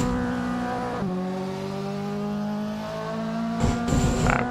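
A Mazda RX-7 race car in Assetto Corsa screams along a mountain touge road, its engine holding a high, steady rotary whine that shifts pitch around gear changes, with brief tire and revving bursts near the end.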